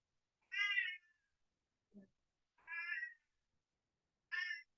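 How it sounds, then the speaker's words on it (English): A pet cat meows three times, loud and close in a quiet room, with a faint low murmur between the first and second meow. "my cat is really chatty"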